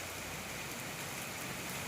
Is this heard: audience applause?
no